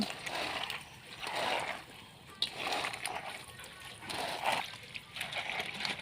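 Pickled mustard greens being stirred by hand with salt and sugar, giving repeated wet squelching and sloshing swishes in a steady rhythm, close and moderately loud, with no voice over it.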